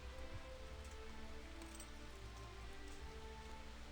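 Steady rain falls in the medieval world of Kingdom Come: Deliverance, a continuous even patter with a low rumble underneath, moderately loud and unbroken for the whole stretch with no voices.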